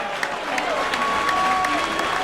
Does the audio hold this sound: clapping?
yes